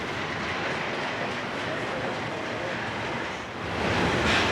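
A train on the Boston and Albany Railroad's Boston and Berkshire subdivisions rolls past with a continuous heavy rumble and wheel roar, steady and close, swelling slightly near the end.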